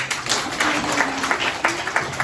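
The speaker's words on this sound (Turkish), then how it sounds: "önce düşünen öğretmenimizi bir alkışlayalım." An audience at a folk minstrel tradition event claps steadily, a moderate, slightly distant patter of applause throughout the short stretch.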